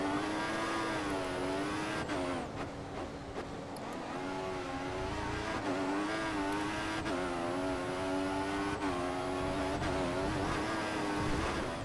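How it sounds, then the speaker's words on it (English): Formula One race car in the F1 2014 video game at Malaysia, engine droning steadily at high revs with repeated gear-change dips and brief tyre scrub as the car tries to spin, loud and continuous throughout. "My car's trying to spin."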